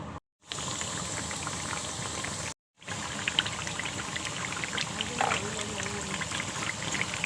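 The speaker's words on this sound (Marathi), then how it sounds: "तेल ठेवलं आहे कढईमध्ये गरम करायला त्यामध्ये आता फ्राय करून घेते" Sabudana pieces deep-fry in hot oil in a kadhai over a full flame, producing a dense continuous bubbling sizzle that runs through most of the clip, broken by two very short gaps.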